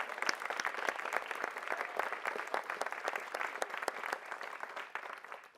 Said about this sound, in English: please raise your hand so we can give you a round of applause